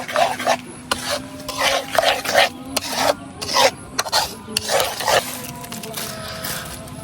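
A thick kotkoti mixture is stirred in a pan, giving repeated loud scraping and rasping strokes in a steady rhythm over a low hum, close up, without speech.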